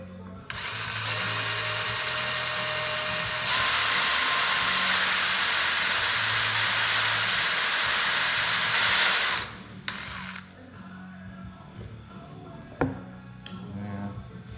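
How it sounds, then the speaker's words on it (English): A power drill whines steadily at high speed for about nine seconds drilling rivet holes in a Vans RV-10 aircraft tail kit, pitch rising slightly as it bites in, then stops, followed by small clicks and taps. "So I think I might be a little small on my drill"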